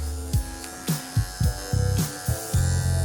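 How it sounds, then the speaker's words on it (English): Electric 5-in-1 pet clippers on their shortest blade setting shave the pads of a dog's paw, a steady close buzzing motor hum with short uneven surges as the blade moves across the foot. "I'm gonna use a 40, the shortest setting on the 5-in-1 to shave the paw pads"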